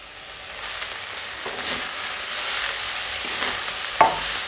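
Fresh shepu (dill) greens tossed and stirred into a hot pan of spices, with a steady soft sizzle of frying and occasional scraping stirs, close by.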